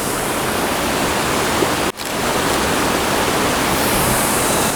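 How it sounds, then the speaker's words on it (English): A winter waterfall with icicles pours in a steady, broad rush of white water that fills the scene at close range, with one brief dip partway through and no voices. "I'd love to get a little bit closer to this waterfall"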